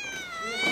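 A house cat from a traveling troupe of performing felines gives a single drawn-out meow, close and clear, rising slightly toward the end.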